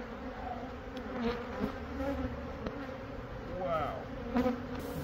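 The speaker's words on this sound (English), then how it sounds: "so the bees, and they're only built in there, but also in the roof here" Dense buzzing of many bees swarming close by a cut-open honeycomb in a roof, a steady insect drone with individual wingbeats rising and falling, no voices.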